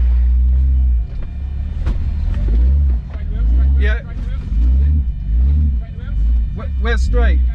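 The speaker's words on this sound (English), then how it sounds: "We actually have the recovery vehicle now about to winch us or tow us backwards." A recovery vehicle winches an off-road car backwards, a heavy low engine rumble that swells and eases in repeated surges, close and loud, with people talking over it.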